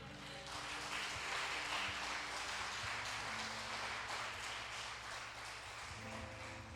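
A church congregation applauds in a dense, steady wash of clapping that runs throughout, fairly quiet and distant, with sustained low tones underneath.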